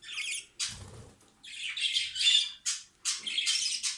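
Harsh, scratchy squawks from a budgerigar come in short bursts with brief gaps, close and fairly loud, chattering and screeching.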